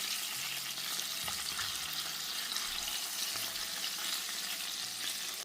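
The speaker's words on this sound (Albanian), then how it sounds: "i skuqim kofshat e pules në të dy anët, derisa të na marrin një ngjyrë të bukur" Chicken thighs frying in a covered pan, a dense, continuous loud sizzle lasting the whole stretch with a few faint low clunks, no voices.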